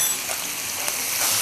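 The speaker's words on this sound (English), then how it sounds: "I hear it starting to sizzle." Chicken seasoned with salt and pepper sizzles in a hot pan, a steady, fairly loud hiss of frying with faint crackles and no talking.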